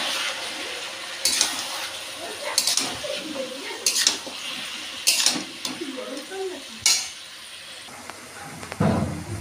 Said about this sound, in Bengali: এবার আমি সবজিগুলো ভালো করে একটু নেড়ে নেব